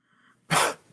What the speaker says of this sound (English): He coughed, spit, sneezed.